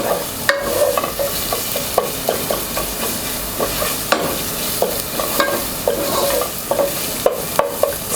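Chicken with orange zest being sautéed in a pan on moderate heat, a steady sizzle broken by repeated sharp scrapes and taps of a spatula stirring.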